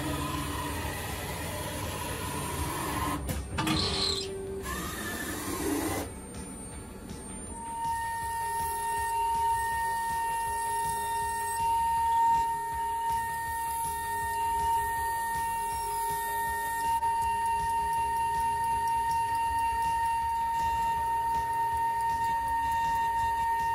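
A Banglemaster jewelry CNC machine cuts an octagon cut-out bangle after an automatic tool change, giving a sustained mechanical whir with steady high whining tones and some clattering near the start, loud and continuous throughout.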